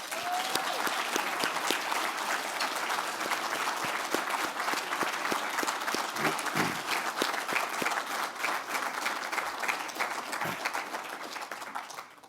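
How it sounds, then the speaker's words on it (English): A breakfast gathering's audience claps in a steady, fairly soft round of applause that holds evenly throughout with no talking over it. "get a round of applause for Ken Davidson, Loretta Story, and Ted Watts"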